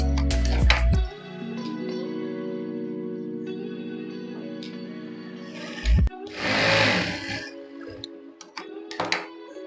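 A sewing machine stitches darts on a pot-neck blouse, running in a steady, close mechanical hum for several seconds before stopping, followed by brief handling and rustling noises.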